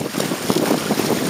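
Strong wind blasts across open water aboard a sailing trimaran with amas during the Everglades Challenge, gusting and buffeting close to the microphone with rushing water beneath.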